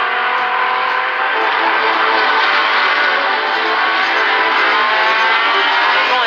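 Race cars at the 1973 Le Mans 24 Hours passing through the Ford chicane, a loud sustained high engine howl blending several cars at speed, dense and continuous with no voices.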